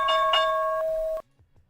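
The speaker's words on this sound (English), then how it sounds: "with the opening bell" Stock market opening bell, a clear electronic ding-dong chime with a few ringing tones that sustain about a second and then cut off cleanly, loud and alone.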